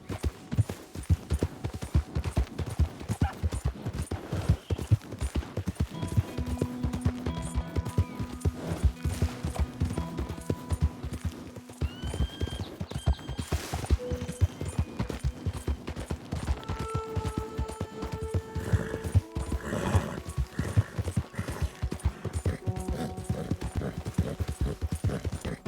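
Horse hooves pound in a fast, continuous galloping clip-clop throughout a ride in the video game Red Dead Redemption 2, loud and close, with occasional tonal game sounds layered over the hoofbeats.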